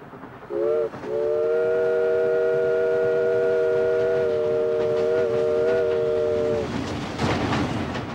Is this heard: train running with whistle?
yes